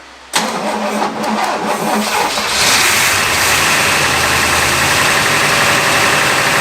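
After sitting seized for decades, a 1960s luxury car's engine cranks briefly, catches and settles into a loud, steady idle with a slight rise in revs.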